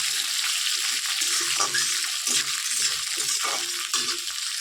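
Potatoes with green chillies frying in a pan, a steady close hiss with brief stirring scrapes and spatula knocks recurring every second or so.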